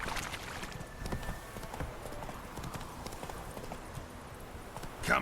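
A horse's hooves clip-clop in a steady rhythm in the video game The Witcher 3, moderately loud over a soft ambient backdrop.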